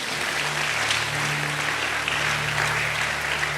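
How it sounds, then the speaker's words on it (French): Applause from a church congregation during a service, a dense continuous wash of clapping held steady for several seconds, with a low sustained hum underneath. "Est-ce que tu peux acclamer pour toi-même?"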